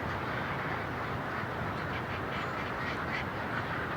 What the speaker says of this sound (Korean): 갈매기입니다.